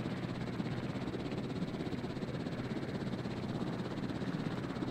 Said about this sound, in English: I wish there was a thing you could do to speed up these helicopter things.